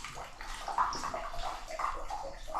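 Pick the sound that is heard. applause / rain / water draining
water draining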